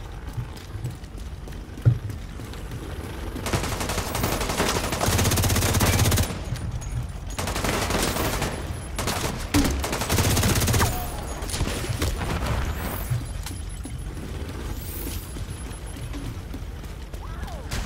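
Enemy gunfire in The Division 2: Warlords of New York, rattling bursts of automatic fire crackling in the mid-distance, with heavier volleys around several seconds in and a steady combat din between them.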